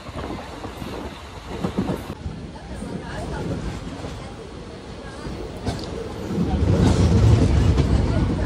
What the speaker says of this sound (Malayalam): ഈ ട്രെയിൻ എല്ലാ സ്റ്റോപ്പിലും നിർത്തും